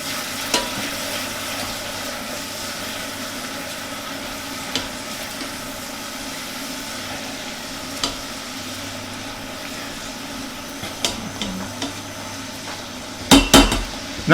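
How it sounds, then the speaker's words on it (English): Chopped shallot and garlic sauté in a pan, giving a steady, soft sizzle throughout with occasional light utensil taps and a few clattering knocks near the end. "I'm going to saute this until the shallot sweats out and everything's nice and fragrant"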